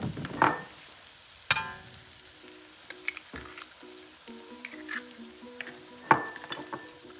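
Eggs sizzle in a hot pan for egg fried rice, a steady frying hiss broken by a few sharp clinks of a utensil against the pan, with no talking.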